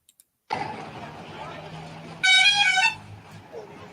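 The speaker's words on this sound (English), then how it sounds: "There's the bus station to give you an idea of the traffic" Busy traffic at the Varanasi bus station in India, with steady close engine and road noise and a loud burst of car horns honking midway.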